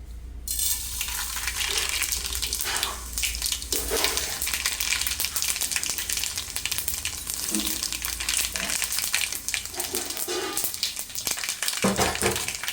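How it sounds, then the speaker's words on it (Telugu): Spices sizzle and crackle in hot oil, a loud, steady hiss with occasional pops and stirring sounds throughout. "ఆయిల్ వేడెక్కిపోయింది తాలింపు దినుసులు వేసుకుందాం"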